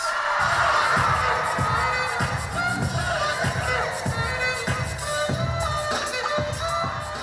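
Crowd cheering and shouting at a pom dance squad's Division III county championship, with a steady low thumping beat running under the dense, loud crowd noise throughout.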